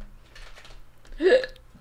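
A single short hiccup pops out near the end, close and fairly loud, after faint murmuring in a casual indoor livestream.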